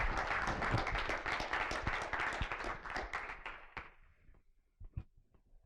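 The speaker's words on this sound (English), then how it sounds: "Round of applause for opening up." A workshop audience claps after a presentation session talk, with dense, loud applause that thins out and fades, leaving a few scattered last claps near the end.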